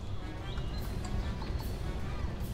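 Horse hooves clip-clop in ARK: Survival Evolved, a rapid, continuous patter of steps over a dense, rumbling background of game sound throughout.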